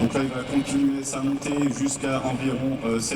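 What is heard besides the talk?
None of the usual background noises is heard.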